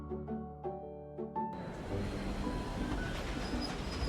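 A tram ride in the video game Love and Deepspace: a few soft tonal chimes give way to a steady rumbling, rattling rail roll that carries on at moderate level to the end.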